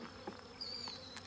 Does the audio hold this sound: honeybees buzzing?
yes